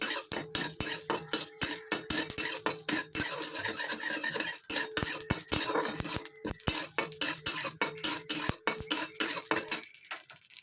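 Lentils dry-roasting in a pan without oil, with a spatula scraping and stirring in a fast, steady rhythm of close, loud strokes and clinks against the metal, stopping just before the end.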